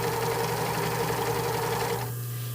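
Sewing machine running a zigzag stitch to attach fabric, a steady continuous close mechanical hum with a fast stitching pulse that eases off near the end.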